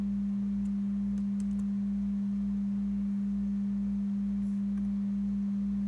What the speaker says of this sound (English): So here we have a sine wave at 200 Hz.